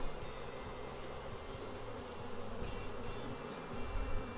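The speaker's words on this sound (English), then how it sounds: "Lots of bees." Honey bees fanning at the entrance of an aggressive hive being split, a dense, continuous buzzing drone of many wings, steady and fairly close throughout.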